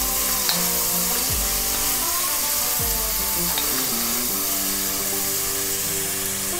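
Celery is dumped into a pot of caramelizing onions for a hearty stew, producing a loud, continuous close sizzle with a few clunks and scrapes of stirring, with no speech.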